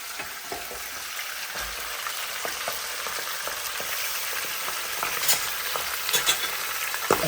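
Chicken pieces fry and brown in hot oil in a pot, giving a steady, dense sizzle throughout with small crackles and pops rising near the end, close and without any voices.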